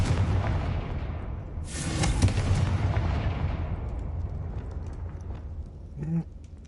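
Spell explosions from a Harry Potter video game burst in a quick series of loud booming blasts with crackling debris, followed by a fading rumble and a short sharp impact near the end.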